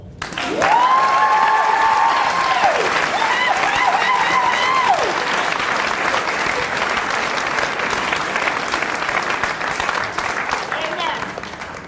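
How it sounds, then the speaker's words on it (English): An audience at a diversity monologues stage event breaks into loud, sustained applause that holds steady throughout, with whoops and cheering voices rising over the clapping early on. "a hand of applause"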